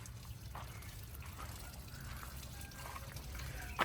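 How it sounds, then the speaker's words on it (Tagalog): Water from a garden hose spills and splashes steadily onto the ground in a backyard garden, a continuous low trickling wash heard up close without talk. "Yung hose, tumatapon yung tubig."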